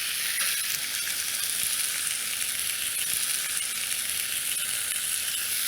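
Tuna fillet seasoned with Italian dressing, spices and herbs sizzling on a pre-greased griddle: a loud, steady, close hiss of frying without any talk.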